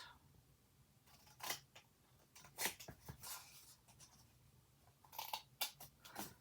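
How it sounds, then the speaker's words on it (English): Paper being cut out in a rectangle for a recipe album, a series of short, sharp snips and slicing scrapes in quick bursts, fairly faint and close, with no talk. "Going to cut that rectangle out."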